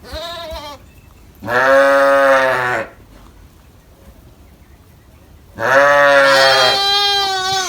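Sheep and young lambs bleat on a farm, two loud drawn-out cries separated by a quiet pause, close to the listener with no one talking.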